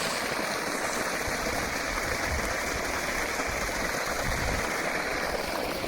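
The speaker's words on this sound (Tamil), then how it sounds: "3 இன்ச் பைப்பில் பாருங்கள், ஒரு 5 அடி பக்கம் தண்ணி நீராக அப்புறம் விழுந்துட்டு நல்லா போச்சு." Water gushes steadily from a 3-inch pipe fed by a solar pump, falling about five feet in a continuous, close splashing rush with no talking over it.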